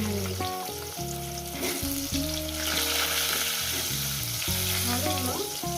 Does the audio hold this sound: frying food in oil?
yes